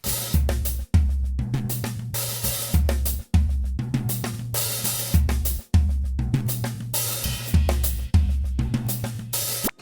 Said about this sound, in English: we're just left with the melody of the hi-hat and the toms